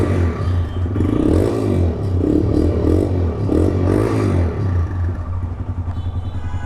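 A used TVS Raider motorcycle's engine runs close by, with a throbbing idle rising in a few revving swells and a slight mechanical clatter, and no talk over it.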